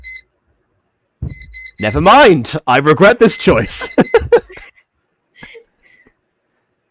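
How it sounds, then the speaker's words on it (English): An alarm clock beeps in steady, high repeated tones, partly buried under a person's loud excited shouting and laughter, then continues faintly in the quiet gaps near the end. "Oh, it's the alarm clock, okay."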